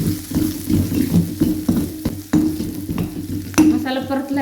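Masala with salt and turmeric being sautéed in oil for vada pav potato filling, close sizzling under repeated spoon scrapes and clacks against the pan, ending with a brief watery splash.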